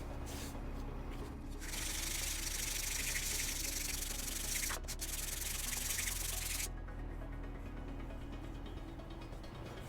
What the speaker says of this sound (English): I'm going to go ahead and switch over to a finer sandpaper. This is a 220 grit sandpaper.